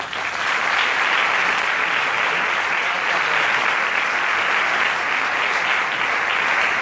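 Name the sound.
audience applause at a book presentation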